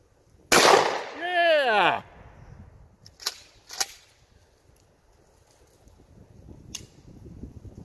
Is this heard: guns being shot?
yes